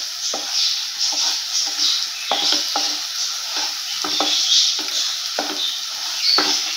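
Lightly beaten eggs cook in a pan under a continuous soft sizzle, broken by repeated scraping strokes of a spatula stirring them at an irregular pace; no voices.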